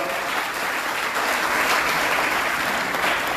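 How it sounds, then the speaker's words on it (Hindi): A crowd seated inside a hall at a public gathering breaks into loud, dense applause, a continuous even roar of many hands clapping close by with no gaps. "जोरदार तालियां बजाइएगा"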